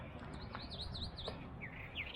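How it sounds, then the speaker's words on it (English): Birds sing near a small lake in a string of high, sweeping whistled notes against a low background hum, faint and somewhat distant. "you can hear the birds singing."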